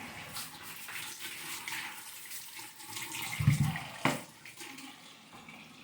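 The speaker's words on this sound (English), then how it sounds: "First I take a few russet potatoes. I rinse them off good." Tap water runs while russet potatoes are rinsed under a faucet at a kitchen sink, a soft steady stream with a louder splash or clatter of handling near the middle, quiet and close with no talking.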